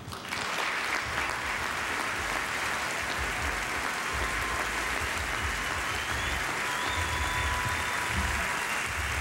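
Crowd applause at the 2006 NHRA POWERade drag racing awards ceremony honoring the Army team, a broad steady clapping wash with low rumbling room noise underneath.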